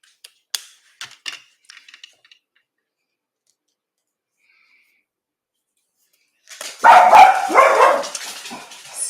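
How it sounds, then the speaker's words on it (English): Puppies break into a loud, close burst of rapid, overlapping barks after several seconds of faint clicks and snips from paper crafting at a table. "Excuse my puppies."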